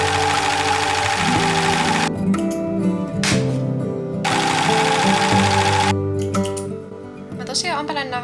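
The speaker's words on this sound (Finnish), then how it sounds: "mä lähden nyt siis sammuroimaan nää lahkeen reunat" An overlock serger runs fast and loud while finishing the leg edges of trousers made from recycled duvet covers. The buzzing hum carries on for several seconds, starting and stopping a few times, with a person talking over it.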